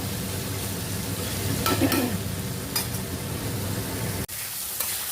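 Bitter gourd frying in a pan while being stirred, a steady close sizzle with scraping swells of the spatula, easing briefly after a sharp break near the end.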